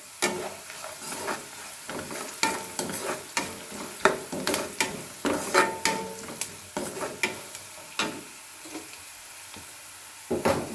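Onions and spices fry in a pan for avalakki upma, a soft sizzle under repeated rhythmic scrapes and knocks of a spatula stirring against the pan.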